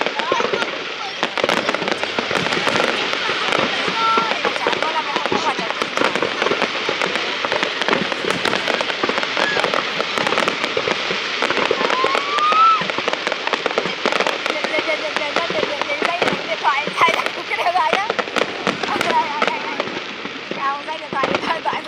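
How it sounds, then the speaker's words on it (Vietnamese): Dense fireworks display at the Hung Kings Temple festival in Viet Tri, a continuous barrage of crackling bursts and pops with a steady loud roar, crowd voices mixed underneath throughout. "Cái này mình kết hợp bắn thêm kèm pháo quốc phòng có thể hay nhỉ?"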